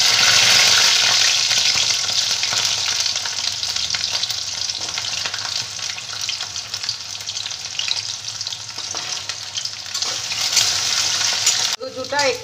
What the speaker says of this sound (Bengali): এবার গাঁঠি কচুগুলো আমি ভেজে নেব।